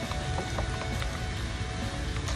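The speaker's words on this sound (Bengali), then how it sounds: "আমি পেঁয়াজ, রসুন, কাঁচা মরিচ আর চিংড়ি মাছটা একসঙ্গেই দিয়ে দিচ্ছি।" Onion, garlic, green chili and shrimp fry together in a quarter cup of hot oil, giving a dense, even sizzle that crackles steadily throughout at close range without a break.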